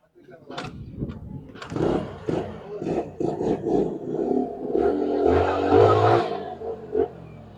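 A sputtering motorcycle engine that keeps stalling revs in uneven bursts, growling louder toward the end, with people talking over it.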